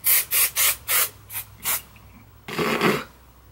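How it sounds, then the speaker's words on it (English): Several short bursts of hairspray hiss close by, five or six quick puffs followed by a longer, fuller spray. "I'm just going to spray it down with hairspray"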